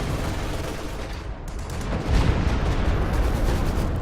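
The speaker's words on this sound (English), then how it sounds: "Ooh, looks like that Stuka shot actually missed its mark a little bit." Aircraft strafing run in a WWII real-time strategy game: a dense, continuous roar of gunfire and explosion noise that swells into a louder burst about halfway through.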